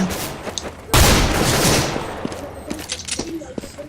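Gunfire in Counter-Strike: Global Offensive, a loud burst of automatic shots breaking in after a quiet moment and rattling on for a couple of seconds, followed by scattered fainter game sounds.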